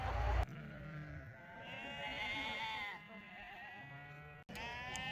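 A herd of goats on a high pasture in Kyrgyzstan bleats repeatedly, with several overlapping wavering calls at moderate distance over outdoor background noise and no clear talk.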